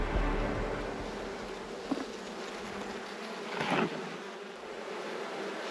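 Honey bees buzzing around nucleus hives, a continuous close drone of many wings with occasional louder passes near the microphone, no speech.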